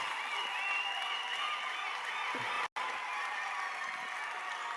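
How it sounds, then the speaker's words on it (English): A graduation ceremony crowd cheering and clapping as a faint, distant, steady wash of applause, broken by a momentary cut partway through. "They are cheering for us."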